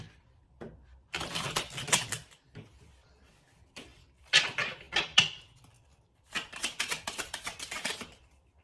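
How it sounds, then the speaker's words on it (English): A deck of Hidden Truth Oracle cards is shuffled and pulled, giving three separate bursts of crisp riffling and flicking with quiet gaps between them. "I pull these Hidden Truth Oracle cards for you guys"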